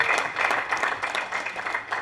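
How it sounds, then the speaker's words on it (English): An audience claps steadily for a woman named Iryn at a book talk, a dense, sustained burst of applause filling the room without voices over it. "Let's give a round of applause to Iryn, ladies and gentlemen"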